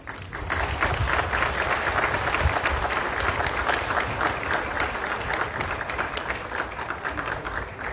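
Loud, warm applause from an audience at a public ceremony, dense clapping of many hands sustained evenly for eight seconds, with faint crowd murmur beneath.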